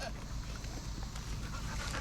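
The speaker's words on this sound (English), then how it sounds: "there's the goat guard dog right there" A goat guard dog pants steadily in a goat pen on an off-grid homestead, close and rhythmic, with no talking.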